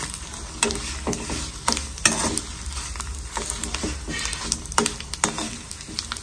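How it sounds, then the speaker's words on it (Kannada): Mustard seeds splutter in hot oil for tempering, crackling and spitting with sharp irregular pops close up, with occasional stirring scrapes and no voices. "ಒಗ್ಗರಣೆ ಎಲ್ಲ ಸಿಡಿತಾ ಇದೆ ಎಲ್ಲೆಲ್ಲ ಚೆನ್ನಾಗಿ ಸಿಗುತ್ತಾ ಇದೆ ಇದು ಸಾಸಿವೆ ಎಲ್ಲ"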